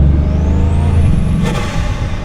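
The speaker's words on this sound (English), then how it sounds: "quite some turbo sounds when you come onto the power" A Bugatti Chiron Sport accelerates hard up a mountain pass, its engine roaring loud and close with a rising turbo whistle climbing steadily, followed by a brief whooshing release.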